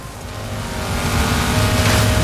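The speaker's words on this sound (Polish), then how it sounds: "Robi mnie Audi, słyszę go z prawej strony." Engine roar of an Audi race car in Forza Horizon 5 building as it closes in from the right during a race, loud and steady with a rising pitch over a couple of seconds, no voices.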